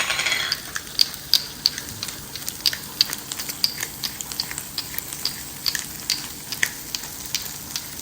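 Swordfish steaks, seasoned with salt and pepper, sizzle in a pan as a steady close hiss, with frequent small pops and crackles scattered throughout.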